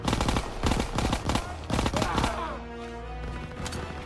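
Enemy gunfire in the World War II shooter game Call of Duty: WWII, loud rapid bursts of shots in quick clusters, with a voice coming in over the fire toward the end.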